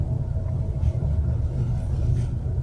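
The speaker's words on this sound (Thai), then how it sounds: "เติมคันเร่ง" Manual-transmission pickup truck engine pulling under added throttle, a steady loud low rumble with continuous road and engine drone throughout, no voices.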